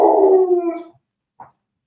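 A dog lets out one loud, close howl that rises and fades over about a second, followed by a short faint yelp after a pause, with no talking over it.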